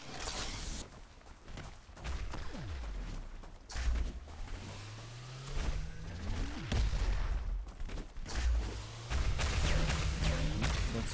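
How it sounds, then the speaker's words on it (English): Rocket launcher fire in the arena shooter ShootMania during a semi-final match, a string of sharp launch thumps and whooshing rocket sweeps with blasts spread over the whole stretch, loud and busy with no talking. "Wow, nice rocket there by KrYw."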